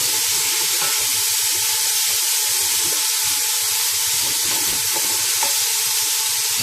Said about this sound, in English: I'm adding green peas, potatoes and carrot. Just saute them a bit.